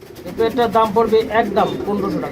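Pigeon cooing from a racing pigeon among birds kept for sale in cages, a few soft rhythmic coos close by, with speech also present.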